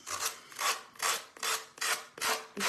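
Hand sanding rasps along the edges of a wooden cottage décor piece in six quick rhythmic back-and-forth strokes, each a soft, close scratchy rub, with no voices.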